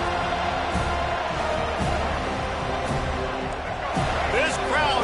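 Stadium crowd roaring at a college football game in the College Football 25 video game, a steady loud rumble of fans with faint cheering, under continuous commentator talk.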